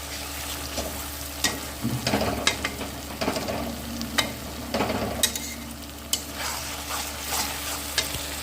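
A spoon scrapes and stirs shahi paneer masala frying in a pan, with a soft continuous sizzle under irregular knocks and scrapes close to the microphone.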